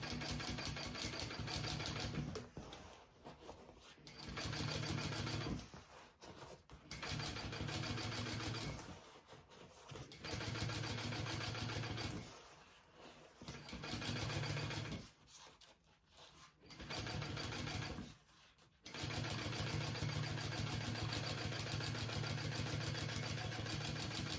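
A sewing machine stitching through thick layers with interfacing, running in rapid mechanical bursts of a few seconds each separated by short pauses, close and steady, with no voices.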